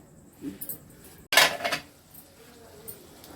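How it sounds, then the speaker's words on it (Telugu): A single metallic clatter as a lid settles onto a pot, with a brief rattle after it, in an otherwise quiet kitchen. "ఇది మూత పెడదామండి"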